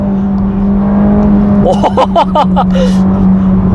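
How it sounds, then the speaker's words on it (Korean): A Ferrari Roma speeds up hard on an open road, heard from inside as a steady, loud engine drone with a gear-shift flutter partway through, while a person exclaims over it. "지금과 같이 뚫린 도로에서 가속 페달을 밟았을 때"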